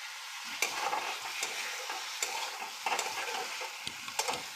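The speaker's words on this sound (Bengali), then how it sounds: "এবার আমি টক দইটা ফেটিয়ে নিলাম।" Sour yogurt whisked briskly in a bowl, a close, steady scraping and swishing with sharp clicks of the whisk against the bowl's side at an irregular rhythm, no voices.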